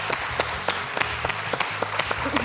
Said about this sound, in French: Malheureusement, applaudissements du fan club.